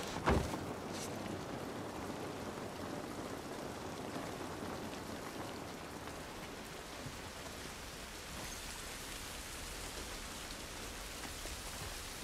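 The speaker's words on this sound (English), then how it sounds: "This rain ain't gonna do us any good." Steady rain falls in the video game The Last of Us Part I, a dense, even patter on outdoor surfaces that continues throughout, with one sharper knock near the start and no talk.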